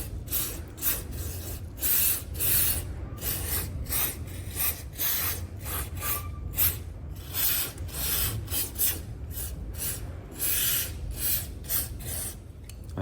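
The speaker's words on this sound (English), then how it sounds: "I'm going to start by cleaning in around the front sprocket first and around the chain guide here" Close scrubbing and brushing rasps repeat in quick strokes while dirt is cleaned from around a motorcycle's front sprocket and chain guide, a steady rhythmic rubbing with brief gaps.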